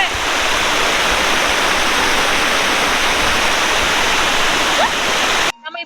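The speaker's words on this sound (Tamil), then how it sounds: "நம்ம இப்போ ஆரே ஃபால்ஸ்ல தான் இருக்கோம்." Aare Falls at Nagalapuram, near Chennai, roars with a loud, constant rush of falling water up close, then cuts off abruptly into a brief voice at the end.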